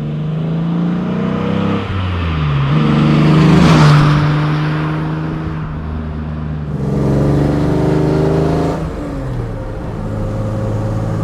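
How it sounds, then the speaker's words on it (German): Porsche and Austin-Healey sports cars driving past, with engines rising and falling in repeated close, loud passes and gear-change sweeps, no talking. "Oh, da kommt ein Porsche, der kommt ein Healy."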